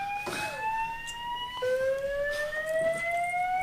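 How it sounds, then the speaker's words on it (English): A fire alarm goes off at a post-game press conference, its steady electronic tones sliding and repeating over a faint room murmur. "Somebody pulled the fire alarm."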